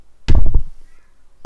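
A person vocally imitates a hammer hit with one short, loud percussive mouth sound, a single knock-like burst followed by quiet.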